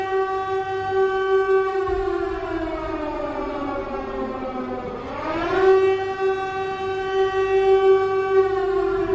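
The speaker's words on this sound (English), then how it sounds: "Did the air raid siren work at all right there?" A civil defense air raid siren wails loud and steady, its rising-and-falling tone dipping low around the middle before climbing back to a sustained pitch, with no talking over it.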